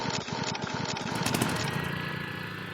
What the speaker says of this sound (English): Then it's time to fire up the mower, which Peter explains involves yanking the c